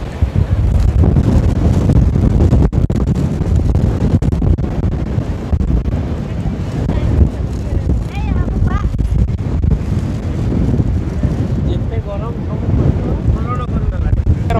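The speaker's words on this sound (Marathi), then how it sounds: "फुल वारं सुटले वारं." Strong wind buffets the microphone outdoors by a river in Rishikesh, a loud continuous roaring rumble with gusty surges throughout, while people talk faintly underneath.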